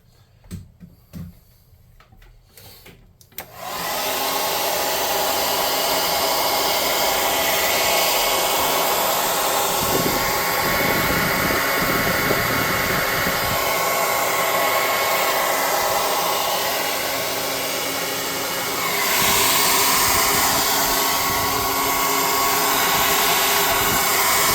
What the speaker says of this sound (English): So then we'll hit it with the air gun.